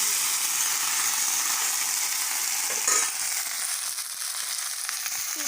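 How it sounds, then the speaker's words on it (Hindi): Fiddlehead fern shoots hiss and crackle loudly in a frying pan, a dense close-up sizzle with a brief clatter partway through before continuing slightly softer. "चलिए डालिए, फ्राई करिए।"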